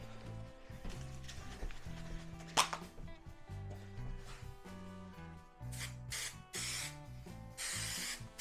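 Several hissing bursts of aerosol spray onto the inside of custom carbon fibre side skirts for a Mazda MX-5 NC1, close and loud, the later sprays longer, over steady background music with no talk.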